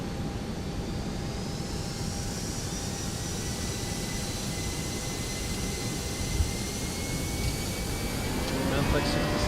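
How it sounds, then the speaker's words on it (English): A ToLiSs A320 jet airliner rolls for takeoff in the X-Plane 12 flight simulator, a steady broadband engine roar with a thin whine above it that grows slightly louder toward the end, with some talk in the background. "Takeoff."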